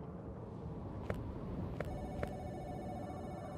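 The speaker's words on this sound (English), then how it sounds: "The phone is ringing." A telephone in the video game Giraffe Town rings three times in short, spaced trills over a low, steady ambient hum, with no talking.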